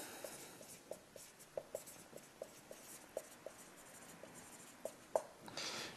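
Someone writes on a board during a complex-numbers maths lecture. Short, scratchy taps and strokes come at an irregular rhythm, fairly faint over a steady room hiss, with no talking.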